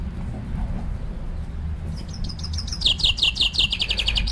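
Outdoor birdsong: a bird breaks into a loud, rapid series of high chirps after a quieter start, rising in intensity over a low background rumble, with no talking.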